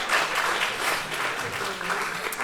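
Audience applause at the end of a French dating show segment, a steady wash of many hands clapping at moderate level for a couple of seconds, with a faint voice mixed in.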